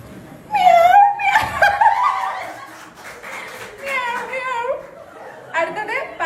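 A human voice imitates a cat with several drawn-out meows in separate bursts, close and clear, with laughter around them.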